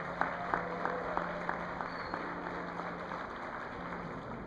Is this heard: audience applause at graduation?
yes